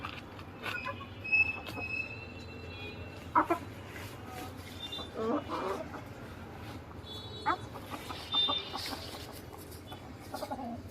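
Backyard chickens, kept and fed on a special diet, cluck and call intermittently in short bursts over a steady low hum of farm ambience, with a few sharper squawks standing out near the recorder.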